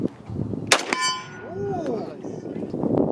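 A bullet strikes a steel target with one sharp metallic clang that rings out briefly, followed by a faint fading tone over quiet outdoor background noise.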